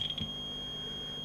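A multimeter in diode test mode beeps steadily while diodes are checked on an LG 47LE5310 LED TV board under repair. The tone is a single high, continuous whine with a faint electrical hum beneath.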